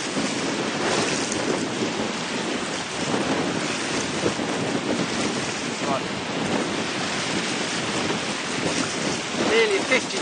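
Strong, steady wind buffets the microphone while sailing a small boat on a lake, a loud continuous roar with splashing water and gusts throughout and no clear talk.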